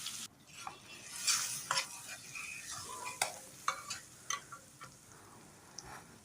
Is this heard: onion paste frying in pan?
yes